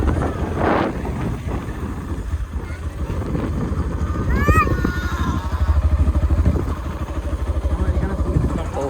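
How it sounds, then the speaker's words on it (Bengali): Motorcycle ride in calm weather, with a steady engine drone and wind rumble running throughout, close and fairly loud, with a brief higher whine partway through. "রাইডিং মোটর সাইকেল, রাইডিং যেটাকে বলা হয় করতেছি।"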